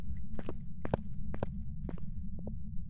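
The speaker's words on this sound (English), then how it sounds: "Footsteps sound normal." Footsteps in the ghost-hunting game Phasmophobia, a steady series of distinct thuds on a floor, fairly close, over a constant low background hum.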